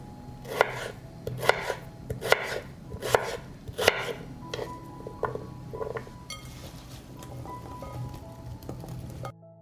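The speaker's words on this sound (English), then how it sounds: "I cut the potatoes into small cubes so that they are baked quickly and get a nice golden crust." A knife chops potatoes into small cubes on a cutting board, with about eight sharp, evenly spaced strikes up close, then lighter, scattered taps with no talking.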